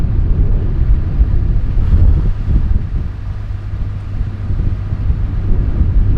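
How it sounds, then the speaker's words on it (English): Wind buffeting an outdoor camera, a loud, continuous low rumble and roar of microphone wind noise with gusty swells and no speech. "That's the wind blowing the camera around."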